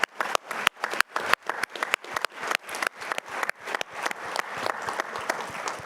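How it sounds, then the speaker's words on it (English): Rhythmic group clapping from an audience at a community safety and fraud summit, honouring volunteers; sharp, evenly spaced claps in unison, fairly close and moderately loud, gradually blurring into looser applause toward the end. "Let's give them a round of applause."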